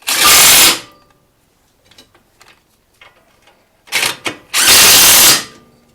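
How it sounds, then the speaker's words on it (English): An impact wrench tightens bolts on a Mazda 3 front brake job in two loud, close bursts, the first short and the second longer after a pair of quick taps, with quiet clinks and handling noise between. "But I got these a couple turns started by hand, so time for the impact."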